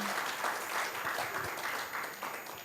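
A church congregation claps together in sustained applause, a dense steady patter of many hands that stays fairly even throughout.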